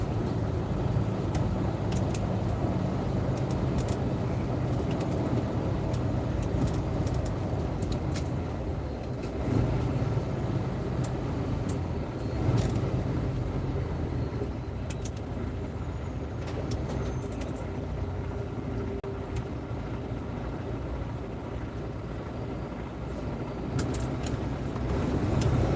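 Road traffic in the Pacific Northwest rumbles continuously, with cars passing steadily and a constant low roar throughout, no voices.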